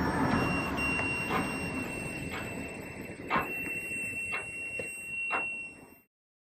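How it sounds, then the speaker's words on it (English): A steady high-pitched electronic tone from an active piezo buzzer in a DIY metal detector kit drones continuously throughout, with a few faint clicks and knocks in the background, cutting off abruptly near the end. "if it's an active buzzer, it will continue to make a sound."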